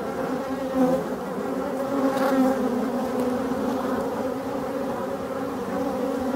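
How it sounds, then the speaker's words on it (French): Steady, close buzzing of many bumblebees droning continuously in a forest in Brittany, with slight swells in loudness and no voices. "On peut voir qu'il y a énormément de bourdons"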